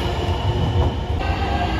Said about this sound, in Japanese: 20時58分発8000系特急電車特急石土高松行き出発です